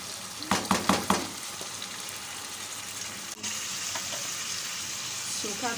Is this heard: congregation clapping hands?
no